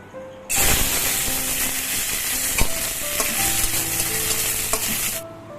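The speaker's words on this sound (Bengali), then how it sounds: "এই কাজু বাদাম কিশমিশ এর একটু ভাজা চলছে" Cashews and raisins sizzle sharply in hot oil, a sudden loud frying hiss with scattered pops and stirring clicks, then it cuts off.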